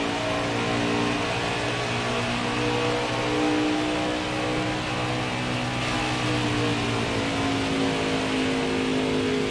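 Race cars roar around Homestead Miami Speedway under the lights, a dense, continuous engine drone with shifting harmonic pitches that holds steady and loud throughout, with no talking.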